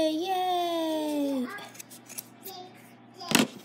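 Scissors snip through yarn while trimming a pom-pom, a few quick close cuts with a sharp crisp snip near the end, following a stretch of high-pitched voice at the start.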